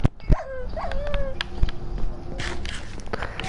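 Dogs in the video game Minecraft yip, whimper and bark in quick close bursts, with faint footsteps and clatter underneath.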